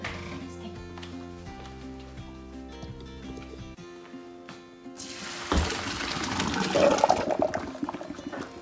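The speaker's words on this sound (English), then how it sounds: "I'm going to drain the pasta in the colander." Boiled pasta water pours out of a pot into a colander in a kitchen, a loud rushing splash that builds in the second half after quieter background sound.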